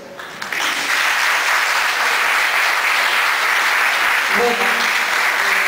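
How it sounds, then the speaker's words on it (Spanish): An audience at a literary event breaks into sustained applause after a brief spoken word, the clapping rising quickly and holding steady and full, with a few voices briefly audible near the end. "Como espero ustedes me aplaudan a mí ahora"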